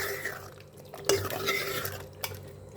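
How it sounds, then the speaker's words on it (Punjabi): A spoon scrapes and knocks around a pot as potatoes are stirred into masala, with a couple of brief metallic clinks close by. "ਹੁਣ ਆਪਾਂ ਮਸਾਲੇ ਦੇ ਵਿੱਚ ਮਿਕਸ ਕਰ ਦਿੰਨੇ ਆ"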